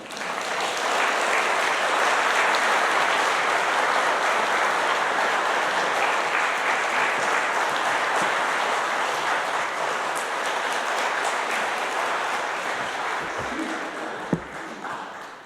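Church congregation applauding as a young guest pastor comes up to preach at a Sunday service, a dense, steady wash of many hands clapping that holds for the whole stretch before tapering slightly near the end.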